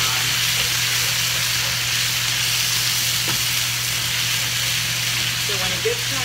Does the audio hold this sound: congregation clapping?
no